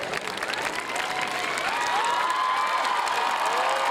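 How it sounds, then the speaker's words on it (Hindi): Large audience at an Urdu fair's opening ceremony applauding and cheering, a continuous roar of clapping with whistles and shouts rising over it, loud and sustained throughout. "ये शोर, ये तालियां आपकी मकबूलियत के अम्माज़ हैं।"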